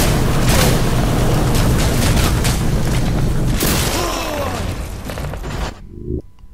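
A rocket launcher explosion in the video game Singularity, a loud, sustained booming blast with rumbling debris that fades out near the end, and a voice partly under the roar.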